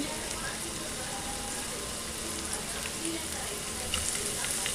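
Onion, garlic and green chili pieces fry lightly in a little oil for gobi manchurian gravy, giving a constant dense sizzle close by with faint stirring.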